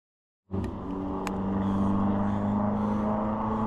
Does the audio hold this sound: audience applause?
no